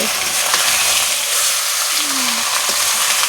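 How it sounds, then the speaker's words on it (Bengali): Chicken with ginger and spices sizzles as it is sautéed in a pan, a steady, loud frying hiss with faint stirring scrapes throughout. "আর মাংসটা একসঙ্গে দিয়ে দেবে আমি সুন্দর করে মশলা মাংসটা কষিয়ে নেবে"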